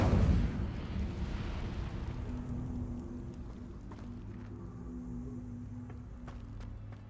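Fire spell cast in Hogwarts Legacy, a burst of roaring flame at the start that trails off into a low, rumbling crackle, fairly quiet and without talk.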